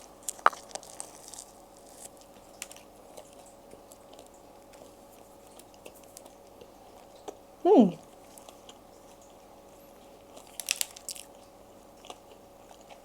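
A single sharp, crunchy bite into a homemade four-ingredient Greek yogurt bagel spread with cream cheese lands mid-way, close and loud, followed by a few faint chewing clicks in an otherwise quiet room.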